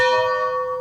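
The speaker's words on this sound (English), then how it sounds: "My favorite tradition here at Kilbourne is the Victory Bell." A school victory bell struck once and left ringing, a clear sustained metallic tone slowly decaying, loud and close with no voices.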